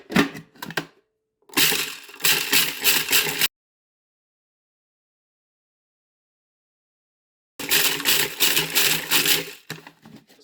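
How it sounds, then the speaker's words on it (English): Dried shrimp whir in a chopper or blender in two loud bursts of rapid grinding and crushing, close up, separated by several seconds of silence. "put in the dry shrimp and see if we can make them as small as possible"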